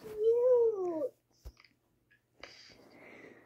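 A puppy's whimpering whine in a Roblox Brookhaven game, one drawn-out squeaky cry at the start followed by faint breathy sounds and small noises.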